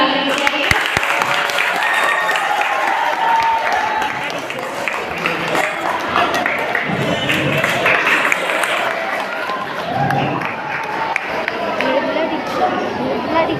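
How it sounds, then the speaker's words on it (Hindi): Children applauding loudly at an educational materials distribution event, with sustained dense clapping and crowd chatter mixed in throughout. "बच्चे जोरदार तालियां बजाइए"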